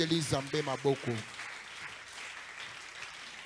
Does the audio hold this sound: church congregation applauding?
yes